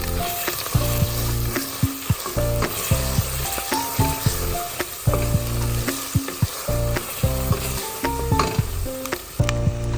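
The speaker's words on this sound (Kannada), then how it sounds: "ಈರುಳ್ಳಿ ಚೆನ್ನಾಗಿ ಕೆಂಪಾದ ಮೇಲೆ ಇದಕ್ಕೆ 1 ಚಮಚ ಶುಂಠಿ ಬೆಳ್ಳುಳ್ಳಿ ಪೇಸ್ಟನ್ನು ಹಾಕಿ ಚೆನ್ನಾಗಿ ಅದರ ಹಸಿ ವಾಸನೆ ಹೋಗುವವರೆಗೆ ಫ್ರೈ ಮಾಡಬೇಕು" Onions cooked until browned, then fried with ginger garlic paste for chicken biryani: a loud, continuous close sizzle broken by repeated rhythmic clacks of a spoon stirring against the pan, with no talking.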